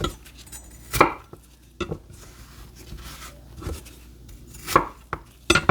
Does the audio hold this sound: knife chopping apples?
yes